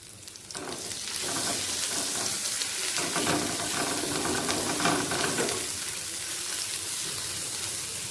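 Spices fry in a small amount of oil for a pointed gourd and potato curry, building from a faint start into a loud, continuous sizzle with some stirring, close up and without speech.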